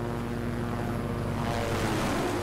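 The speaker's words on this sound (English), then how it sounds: "helicopters." A helicopter in the video game Project Zomboid flies overhead, its rotor and engine drone swelling steadily louder as it approaches, heard alone with no talking.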